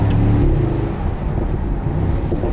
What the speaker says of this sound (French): Et un échappement sport qui est assez sonore.